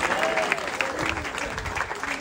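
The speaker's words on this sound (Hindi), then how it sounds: "सबसे पहले तो बहन जी के लिए तालियां बजा दो" A crowd applauds a woman, a steady wash of clapping from many hands that runs for about two seconds at moderate loudness without pause.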